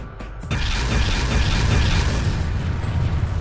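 A loud, sustained blast roars from the PC flight-combat game GunMetal (2003), kicking in abruptly after a brief quiet lead-in and rumbling on with dense crackling, metallic debris and grinding mechanical texture until the end.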